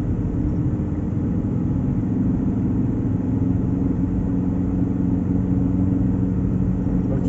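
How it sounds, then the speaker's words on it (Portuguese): A Chevrolet Celta overtakes on a curve along a highway, heard as a continuous, even road rumble with a droning engine and no talk. "Olha o Celtinho ultrapassando em cima de uma curva."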